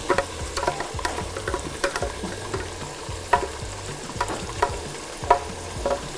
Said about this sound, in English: my egusi is frying beautifully